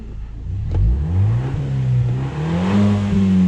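A 2023 Fiat Pulse Abarth 1.3 turbo with six-speed automatic revs in neutral while parked, its close, loud engine note climbing and holding steady for several seconds, with a sharp crack near the start that could be an exhaust pop.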